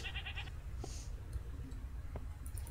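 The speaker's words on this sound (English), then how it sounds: "There is a goat in here." A goat in the Minecraft video game bleats in a short, quavering burst at the start, with a few faint game clicks and blips following over low background hum.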